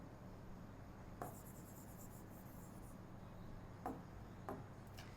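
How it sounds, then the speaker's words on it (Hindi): Hand writing during a Class 9 physics lesson on force and laws of motion: quiet scratchy strokes in a short burst, then a few brief isolated marks, over steady room hiss with no talking. "ऊपर लिख देता हूँ"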